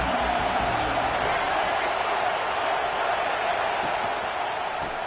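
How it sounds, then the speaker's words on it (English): A large football stadium crowd gives off a steady, dense roar throughout at an even level, with no distinct voices standing out. "This crowd ready to make its presence known."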